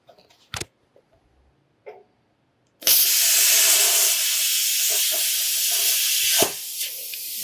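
A plasma cutter slices through metal, starting at an angle and rolling into the cut: after a few faint clicks, a loud, steady broadband hiss begins abruptly and runs continuously for several seconds before a brief interruption.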